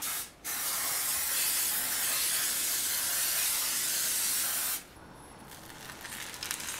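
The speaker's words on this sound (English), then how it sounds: "Going to spray this pan with some cooking spray. I'm using some canola oil cooking spray." Canola oil cooking spray hisses onto a pan in one long continuous burst of about four seconds, close and loud, then stops, leaving quiet kitchen background.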